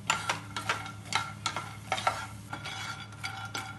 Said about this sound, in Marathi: त्यात मखाने आपण क्रिस्प होईपर्यंत भाजून घेऊया